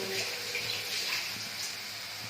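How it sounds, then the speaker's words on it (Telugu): Fingers rinsed under running tap water while cooking a masala omelette, a soft, faint continuous splash and trickle lasting a couple of seconds. "అందులోకి ఫింగర్స్ కడుక్కొని వస్తాను."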